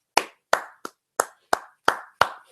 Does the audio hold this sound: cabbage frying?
no